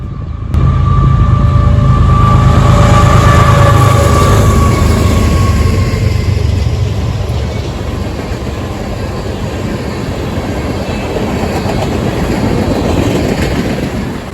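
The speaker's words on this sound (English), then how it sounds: "Heading westbound on CSX's Cleveland Shortline subdivision was CSX Mixed Freight M561 on its daily journey" CSX mixed freight M561, with a former Quebec North Shore and Labrador SD40-2 trailing third, passes westbound on the Cleveland Shortline subdivision in Ohio: a loud, close diesel engine roar with horn tones fading into a long, steady rumble of rolling railcars.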